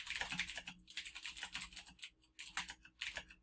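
Rapid typing on a computer keyboard while editing text in a word processor, a dense close clatter of keystrokes in quick bursts with brief pauses between them, no voices.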